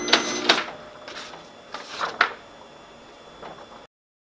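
A Ricoh MP C2003 copier runs after its SC544/SC554 error has been reset, giving several short mechanical whirring bursts over a steady hum, then fading out. No one speaks.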